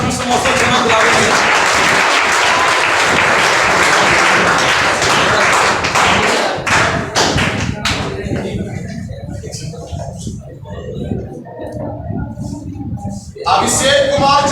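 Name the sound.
audience clapping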